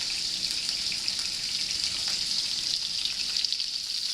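Steak in a frying pan with butter added gives off a steady, bright hiss of sizzling fat, constant and fairly loud throughout with no talk over it.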